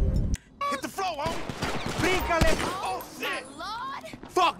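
Gunfire in GTA 5 on PS5, a burst of rapid shots crackling under excited, overlapping talk from the players throughout.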